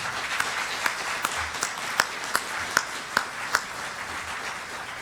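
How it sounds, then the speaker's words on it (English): Audience applause at a county association legislative gathering, a steady wash of many hands clapping with sharp individual claps popping out at a fairly even rhythm, moderately loud and with no talk over it. "I ask that you please give them a round of applause"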